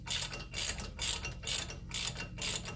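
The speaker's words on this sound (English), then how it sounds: "30mm socket. I'll take a ratchet and run it down" A ratchet clicks in quick regular bursts as it runs a 30mm socket down on a quad racing ATV axle nut, close and clear with no talking.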